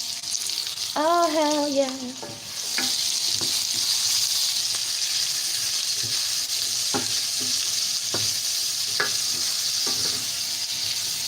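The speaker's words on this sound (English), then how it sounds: "after the onions and garlic and stuff, I get to brown the meat in it" Meat browning in a pan after onions and garlic for chilli, a continuous loud sizzle with periodic clicks and scrapes of a utensil; a man briefly exclaims near the start.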